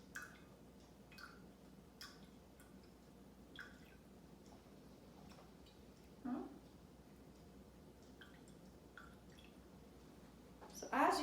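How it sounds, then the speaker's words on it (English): Water trickles slowly from a handheld bottle into a solution holding a floating egg, heard as quiet, sparse drips and soft splashes against a hushed background, with a brief fuller pour near the end. "we are going to slowly add some water to this solution and see what happens"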